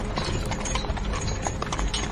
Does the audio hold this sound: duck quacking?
no